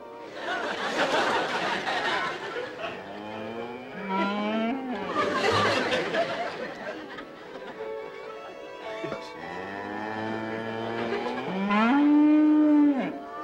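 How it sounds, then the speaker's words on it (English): A cow moos in a television comedy scene: several long, drawn-out lowing calls, loud and close, with people chattering and laughing around them. "It's a cow."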